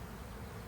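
A swarming honeybee hive fills the air with a dense, continuous buzzing hum, loud and unbroken throughout the short moment.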